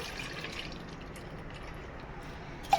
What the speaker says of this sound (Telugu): మిల్క్ అయితే వేసేస్తున్నాను సరిపోయినట్టుగా